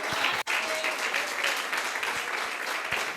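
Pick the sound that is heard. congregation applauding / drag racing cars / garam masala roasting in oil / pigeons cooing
congregation applauding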